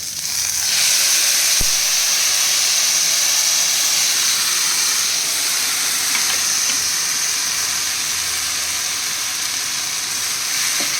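Boiled ivy gourd (kundri) hitting a hot pan with a little oil, a loud sudden sizzle that swells into a sustained steady hiss and steam crackle, close and uninterrupted.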